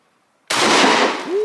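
A shotgun firing a number 7 lead birdshot shell: a single loud, sharp blast that rings out briefly, with no talk.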